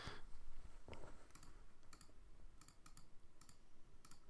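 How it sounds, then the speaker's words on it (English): Bursts of typing on a computer keyboard while entering numbers, with sharp, quiet clicks coming in small irregular clusters over a faint background. "I'm just failing at typing numbers"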